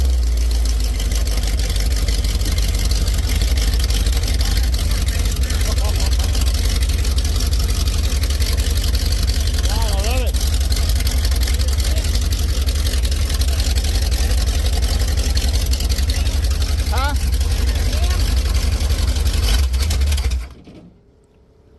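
A freshly started Big Block 440 V8 runs loud and close with a constant deep, rumbling idle and a faint voice in the background, then the engine cuts off abruptly at the end.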